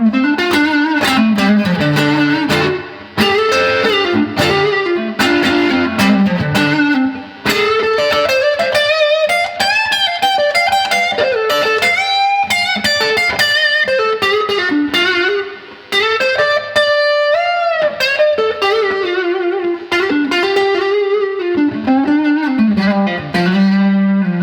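A 1978 Fender Antigua Telecaster electric guitar, played on the neck pickup through distortion, plays a continuous lead line of bent, sustained notes and quick runs, loud and close, with no talking.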